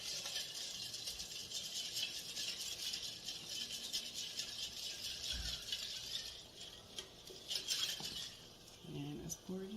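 A cocktail shaker shaking a lime-juice Grinch holiday drink, a steady loud rattling of ice and metal running continuously for several seconds with brief softer dips.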